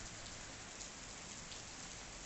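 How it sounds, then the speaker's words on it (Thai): Steady rain falls outdoors during a flood period in southern Thailand, a dense, even hiss of drops hitting surfaces that continues without a break, with no talk over it. "บรรยากาศด้านหลังฝนก็ตกลงมาเพิ่มเติมครับ"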